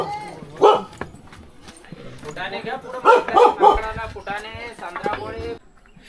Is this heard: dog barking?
yes